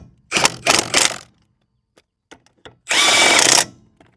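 Power tool tightening the five lug nuts on a trailer wheel in a cross pattern: three quick buzzing bursts close together, a few faint clicks, then one longer sustained whir, loud and close with no talk.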